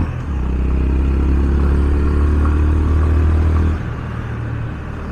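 A Honda CB 350RS engine pulls hard on a test ride with a steady, loud low drone that holds for several seconds, then drops to a quieter idle-like hum near the end.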